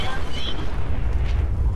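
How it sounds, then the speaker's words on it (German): A legendary Mr. Handy robot explodes in Fallout 4's Automatron add-on: a deep rumbling boom with crackling burst noise that fades into a low roar, while a voice talks over it. "Die explodieren einfach immer alle."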